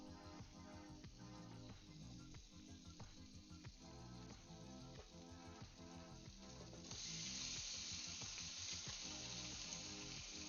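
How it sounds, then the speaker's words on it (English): Corned beef hash sizzles steadily in a hot frying pan, a continuous crackling hiss that swells louder and brighter partway through, with no talk over it. "Listen to that corned beef hash sizzle as it hits the pan."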